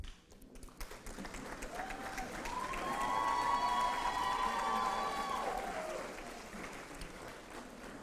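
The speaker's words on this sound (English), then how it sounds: "I'd like for you to stand and give them a round of applause to the faculty and staff." Audience at a graduate hooding ceremony applauding faculty and staff, clapping swelling to a loud peak then tapering, with some cheers and a sustained musical tone in the middle.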